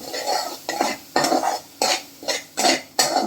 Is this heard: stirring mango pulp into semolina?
yes